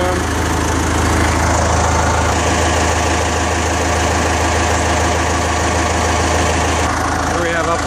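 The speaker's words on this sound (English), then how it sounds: "The engine runs out really well." The engine of a John Deere 160LC excavator runs at a steady idle, a close, loud and even drone with a low vibrating rumble throughout, while someone talks over it.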